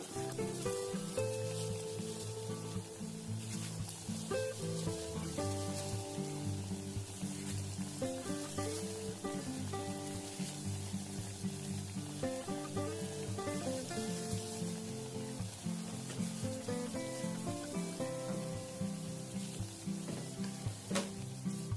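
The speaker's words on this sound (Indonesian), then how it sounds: "Setelah minyak panas, langsung saja goreng seperti ini." Sweet cake batter frying in hot oil in a pan over medium heat, a steady soft sizzle running under continuous background music with no talking.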